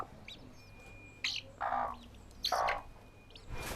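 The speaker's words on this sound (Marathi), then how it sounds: "इकडं आपली कोंबडी आहेत पाळीव कोंबडी गावठी कोंबडी" Free-range village chickens in a Konkan village yard give a few short clucks and chirpy calls in separate bursts over quiet outdoor background hum, fairly close, with no talking.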